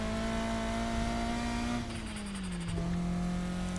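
A car in the video game Need for Speed Heat drives along a road, its engine holding a steady loud hum that drops in pitch as it shifts, with a brief tire squeal near the end and no talk.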